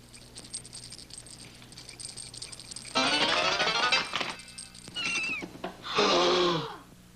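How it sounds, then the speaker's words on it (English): A cat in an animated children's story meows and yowls, two drawn-out loud cries near the end after quieter rustling and background sound. "Oh, my cat Butler."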